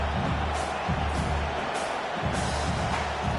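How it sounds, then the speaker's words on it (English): A stadium crowd roars and cheers throughout at a Penn State vs Tennessee college football game, a loud, continuous, dense wash of noise from a large audience. "how nice is it to have the home crowd going absolutely bananas?"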